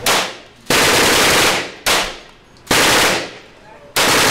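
Loud, close bursts of rapid automatic gunfire, four long strings in a row with brief gaps between them, the shots echoing outdoors.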